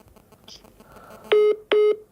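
A telephone number is dialed on a phone, giving three loud, even tone beeps in quick succession after some faint handling clicks, close and clear with no talk.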